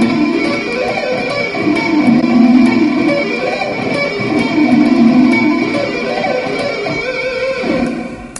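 Electric guitar running a fast pentatonic rock lick, dense and continuous with sustained distorted tone, played loud and close without any speech.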